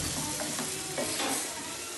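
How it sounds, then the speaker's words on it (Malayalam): Sliced onions sizzle and get stirred in a hot pan while being softened for cutlets, a steady close frying hiss with a few soft scraping strokes of the spoon. "ഇതാ ഉള്ളി വാട്ടാൻ വേണ്ടിയിട്ട് ഞാൻ ഇടുന്നു"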